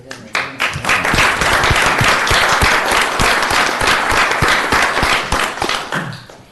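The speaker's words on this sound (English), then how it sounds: "I'd like to just echo the applause." Sustained applause from a council meeting audience, loud and close, with dense clapping that holds steady for several seconds and then tapers off near the end.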